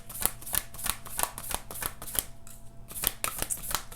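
Oracle cards are drawn and shuffled from a deck in a quick run of soft, close slaps and riffling flicks. The clip is fairly quiet with no talking.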